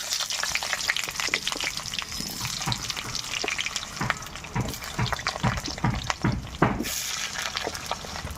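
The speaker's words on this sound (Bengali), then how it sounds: "প্রথমে আমি আলুগুলো ভেজে নেবো" Potatoes fry in hot mustard oil in a wok, crackling and spattering continuously, with irregular louder pops and stirring scrapes throughout.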